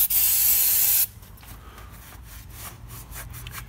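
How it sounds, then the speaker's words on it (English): A loud brake cleaner aerosol spray hisses for about a second, then stops, followed by quieter scraping and rubbing sounds, cleaning an oil leak area. "I'm going to use brake cleaner, okay? Cheapy brake cleaner. And just give that a bit of a spray"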